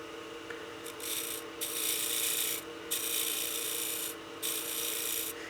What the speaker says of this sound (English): and I'll be using the scraper.